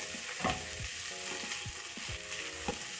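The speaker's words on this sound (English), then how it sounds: "I am going to add in crushed garlic and ginger." Crushed garlic and minced ginger fry in a pan for a peas and minced beef stew, with a close, steady sizzle and repeated spoon-scraping stirs, no voices.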